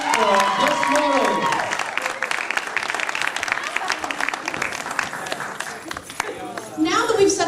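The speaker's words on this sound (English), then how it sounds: "One more round of applause." An audience at a steampunk fashion show breaks into a round of applause for a model, dense steady clapping with cheers and a voice talking over it, swelling again at the end.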